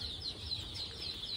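A brood of local chicks gives faint, repeated high-pitched peeps over a low background hum, with a few chirps standing out and no voices.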